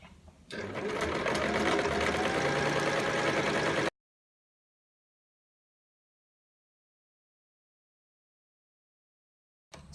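A sewing machine runs in one steady, close whirring burst for about three seconds, stitching quarter-inch seams joining rectangular table mat panels, then stops into silence.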